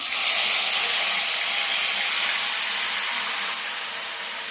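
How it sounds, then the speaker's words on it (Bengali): Marinated chicken hits hot oil with cardamom in a pan, giving a loud, steady broadband sizzle that runs for several seconds and eases slightly toward the end, with no talking. "এবার আমি ম্যারিনেট করা মাংসটা ঢেলে দেব।"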